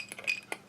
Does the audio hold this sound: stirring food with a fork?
yes